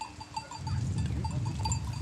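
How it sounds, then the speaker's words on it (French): A flock of Turkish sheep moves along with clinking cowbells, the light bell tones ringing at intervals over a low, continuous rustle of the animals. "on a un troupeau de moutons turcs avec le berger"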